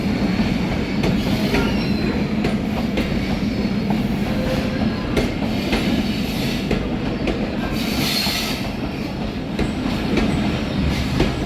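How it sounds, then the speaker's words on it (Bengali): A train rolls into Poradah railway junction, a loud continuous rumble with wheel clatter and squealing that stays close and steady the whole time, with no voices. "ট্রেন যেতে না যেতে কিন্তু আরেকটি ট্রেন চলে আসলো"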